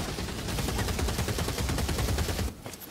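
Rapid, continuous minigun fire in the video game Vermintide 2: a loud, dense stream of shots that runs for about two and a half seconds, then cuts off abruptly, leaving quieter game ambience.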